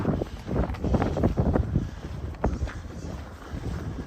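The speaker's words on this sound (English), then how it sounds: "See the flags flying up there to give you some idea of how fast the wind is actually blowing." Strong outdoor wind on a cold Christmas Eve in Regina, Saskatchewan, gusting and buffeting the microphone with a steady low roar and surging swells throughout, no one speaking.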